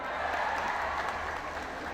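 Sustained applause from an audience at a speech fills the clip, a dense wash of many hands clapping throughout, steady and fairly loud, with no voice standing out above it.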